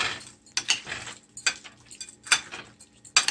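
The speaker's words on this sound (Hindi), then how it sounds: "और अब सबको हम इसी में अच्छे से मिक्स कर लेंगे इस तरह से" Yogurt marinade with onion being mixed into chunks of meat in a bowl for boti kabab, giving intermittent clinks and scrapes of a spoon against the bowl with wet squelches between, close and moderately loud, no talking.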